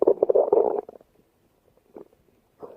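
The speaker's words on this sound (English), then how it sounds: "My stomach is growling louder" Close, loud stomach growling from a hungry person: a strong gurgling rumble for most of a second, then quiet with two faint short gurgles later, with no talking.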